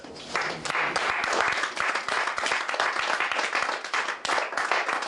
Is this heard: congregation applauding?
yes